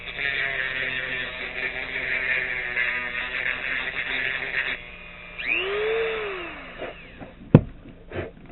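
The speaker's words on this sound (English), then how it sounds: "I'm actually going to grind out just a little bit of the edge." Power tool grinding down the plastic edge of a retro Wii Nunchuk clip, a steady whining buzz running several seconds, then a pause and a rising pitch sweep as the tool spins down and back up, close and alone.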